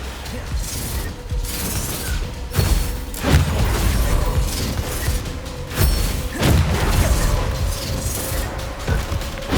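A run of spell explosions in a Hogwarts Legacy battle: several heavy booms and thuds land at uneven intervals over constant clattering combat noise, loud and close.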